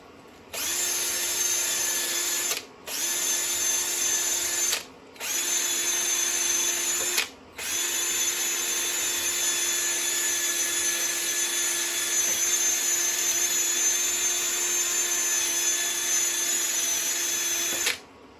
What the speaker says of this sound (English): Let me get the wire wheel.